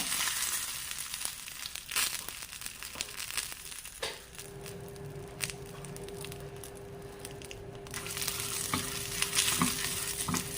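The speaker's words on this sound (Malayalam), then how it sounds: "നമ്മുടെ പാന് വെളിച്ചെണ്ണയൊക്കെ നന്നായിട്ട് ചൂടായിട്ടുണ്ട് അപ്പോൾ നമുക്ക് നമ്മുടെ മുളക് അങ്ങോട്ട് ഇട്ട് കൊടുക്കാം" About fifteen dried red chillies fry in hot coconut oil in a pan, giving a close, continuous sizzle with scraping stirs and crackles.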